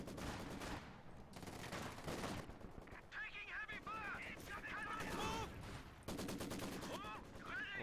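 Crackling rifle and machine-gun fire on infantry in the strategy video game Company of Heroes, dense repeated bursts through most of the clip with other battle noises mixed in.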